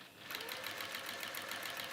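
A sewing machine runs steadily, stitching a waxed fabric warmer, with a continuous close whir and rapid needle rhythm from start to finish after a brief quiet onset.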